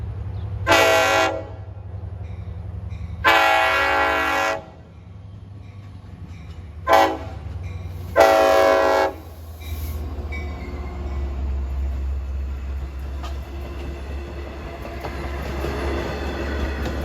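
A Long Island Rail Road train on the Montauk Branch sounds its K5LLA horn in four loud blasts, two long, one short and one medium, over a steady low rumble of the passing train.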